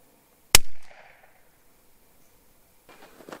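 A single sharp airgun shot fired close by, muzzle about 3 feet from a decibel meter, with a brief decaying ring afterward and faint rustling later.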